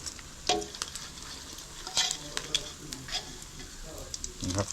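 Small frogs fry in hot oil while being stirred, giving a steady crackling sizzle with scraping stir strokes and sharp pops scattered through the short stretch.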